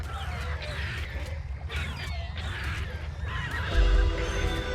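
A horse in ARK: Survival Ascended neighs and whinnies in repeated loud, shrill bursts over a low rumbling background, with a heavier thud near the end.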